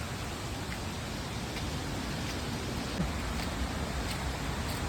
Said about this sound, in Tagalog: naririnig nyo ba? Yung agos lang.